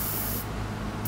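Penetrating oil sprayed from an aerosol can onto a corroded bolt during school bus seat removal, one short steady hiss that cuts off abruptly, close and loud, with no voices.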